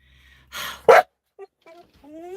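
Inside a truck cab, a dog gives one short, sharp bark after a breathy huff, followed by faint whines and yips, close and fairly loud.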